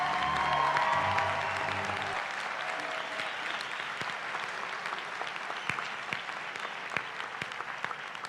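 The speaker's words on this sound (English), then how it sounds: "Let's have a round of applause for all of our undergraduates" Steady applause from a crowd at a nursing school convocation and pinning ceremony, honoring undergraduates; a voice is briefly heard at the start before the clapping continues alone, with a few sharper individual claps standing out.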